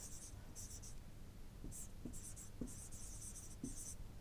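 Pen or marker strokes scratch across a writing surface in short, quiet bursts, close and faint, with soft rhythmic scribbling and pauses between strokes over low background hiss.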